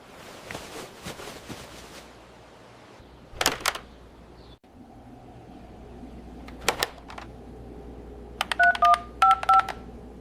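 Tones of a telephone number being dialed, several short dual-tone beeps in quick bursts near the end, following scattered handling clicks and quiet room noise.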